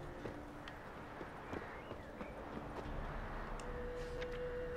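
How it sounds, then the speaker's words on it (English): Roach the horse's hoofbeats in The Witcher 3, a steady clip-clop of hooves at moderate distance over a low background hum, with faint game ambience and no voices. "Horse. Roach. Come back. Come here, Roach."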